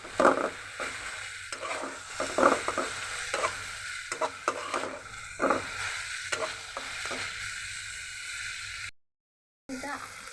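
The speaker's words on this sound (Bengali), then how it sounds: "চিকেনটা আমি নেড়ে দিচ্ছি।" Chicken is stirred and fried in a pan: repeated scraping strokes of a spatula sound over a soft steady sizzle, with a brief total silence near the end before the frying resumes.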